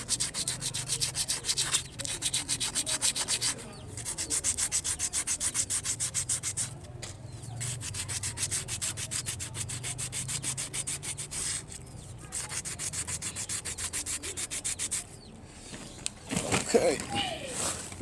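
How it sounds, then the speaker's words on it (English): Coarse abrasive scrubs hard against a compressor part, making close, loud, continuous rasping sanding strokes broken by a few short pauses. "This very abrasive I'm using right now is really coarse"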